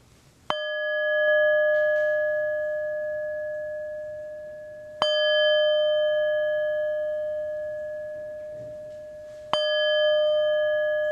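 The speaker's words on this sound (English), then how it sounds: "I invite you to center yourself as you hear the sound of our bell" A church bell is struck three times at even intervals to open a worship gathering, each clear ringing tone sustaining and slowly fading before the next strike, heard alone with no talk.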